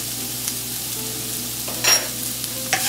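Taro stem curry for a Bengali hilsa head dish is stirred in a pan after salt and sugar go in, a soft sizzle under a low hum with a few scraping strokes near the end.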